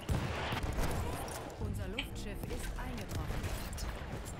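Battlefield 1 gameplay full of dense battlefield gunfire, including heavy anti-tank rifle shots, thumping bursts and explosions throughout, with players talking over the constant combat noise.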